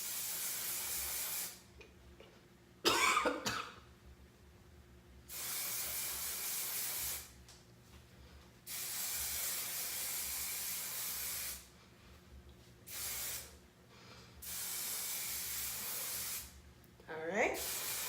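A can of hair spray fires in several long, steady hissing bursts of a few seconds each, close and fairly loud. Quiet gaps separate the bursts, with a brief handling clatter near the start and again at the end.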